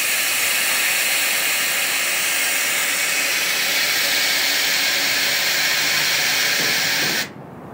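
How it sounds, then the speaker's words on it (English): Loud continuous air hiss from the airbag drop system of a MaxxD A6X lowered car trailer, holding steady for about seven seconds up close before cutting off abruptly, with no voices. "what makes this trailer so special is the air ride and airbag drop system to"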